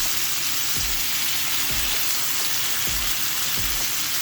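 Chicken fajitas sizzling in a pan, a steady bright crackling hiss close up, with a few soft low thumps at intervals underneath.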